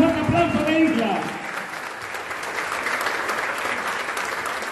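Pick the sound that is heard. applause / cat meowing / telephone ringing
applause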